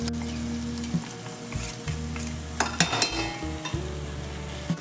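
Masala chitranna with fresh avarekalu beans and capsicum sautéing in a pan, a bright sizzle under a low steady hum, punctuated by sharp clanks and scrapes of a spatula stirring.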